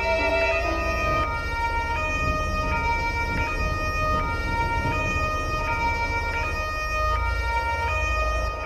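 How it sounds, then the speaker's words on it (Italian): Ambulance siren arriving at a hospital in GTA 5, a loud close two-tone wail cycling steadily over a low rumbling engine and road hum, with no talking. "l'ambulanza in arrivo"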